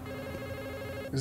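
A phone ringing inside the video game Transference, a faint steady electronic ring tone held for about a second before another louder sound cuts in at the end.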